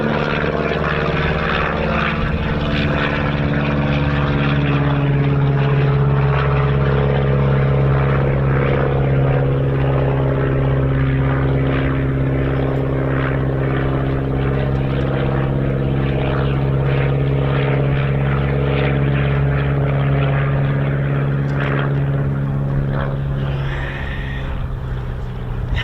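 A de Havilland Chipmunk propeller aircraft flies past in choppy crosswinds, its steady droning engine hum loud and continuous throughout, with a slight rise and fall in intensity and no talking.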